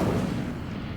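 An Incendio fire spell cast in Hogwarts Legacy, a deep whooshing burst of flame that starts loud and fades over about a second, with no voice over it.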